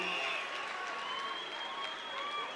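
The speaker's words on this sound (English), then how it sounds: "Let's once more give a round of applause to the President with the message he gave today." Crowd applause for President Jacob Zuma at a Women's Day event in Kimberley, a steady, distant wash of clapping sustained throughout at moderate level with faint voices mixed in.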